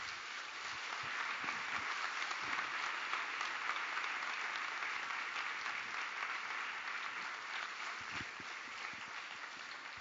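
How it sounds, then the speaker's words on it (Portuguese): Church congregation applauding after a sermon, a continuous, fairly distant wash of many hands clapping that stays even throughout, heard alone without talk. "Vamos aplaudir esse maravilhoso Pai."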